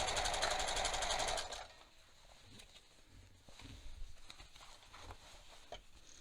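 A sewing machine runs steadily for about a second and a half while sewing bias tape into the seam allowance of a waistband facing, then stops, leaving faint fabric handling and light taps.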